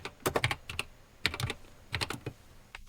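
Bursts of fast clicking keystrokes on a computer keyboard during a OnePlus Watch 4 unboxing, coming in three short flurries with brief pauses between, close and fairly loud with no talking.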